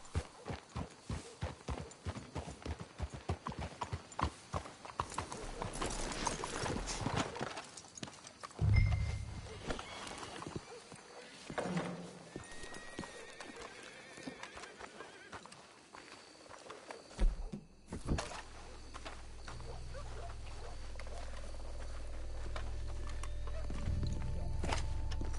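Horses clip-clop at a walk through a video game scene, hooves steady and fairly close at first, with a brief whinny partway through before the hoofbeats give way to low rumbling ambience.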